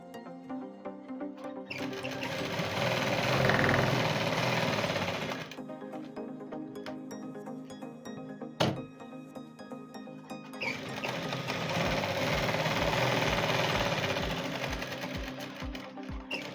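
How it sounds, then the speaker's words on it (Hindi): A sewing machine stitches the front neckline of a child's frock made from waste cloth, two long steady runs of rapid whirring separated by a short pause with a sharp click, close and loud with no talking. "देखिए सिल लिया मैंने ये।"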